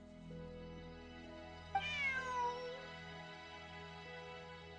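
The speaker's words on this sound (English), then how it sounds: "Bonnie is Pierre's cat." A cat meows once in the Genshin Impact video game, a single clear, drawn-out call that falls in pitch, rising over a steady low background music bed with no speech.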